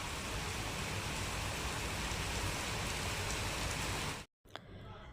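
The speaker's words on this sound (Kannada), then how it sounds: "ಮಳೆ ಹೆಂಗೆ ಬರ್ತಾ ಇದೆ, ಜೋರಾಗೆ ಬರ್ತಾ ಇದೆ" Heavy rain pours down in a dense, unbroken roar of drops that stays loud and even, then drops out abruptly near the end and resumes more quietly.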